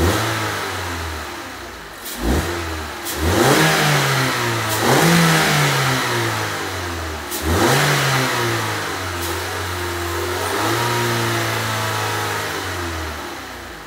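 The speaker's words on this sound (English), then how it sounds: "I'll give you all some revs and some intake noise" A Mazda 3 Skyactiv engine with its intake resonator deleted revs up repeatedly, each throttle blip rising and falling in several distinct sweeps over a steady idle, with prominent intake noise and no talk.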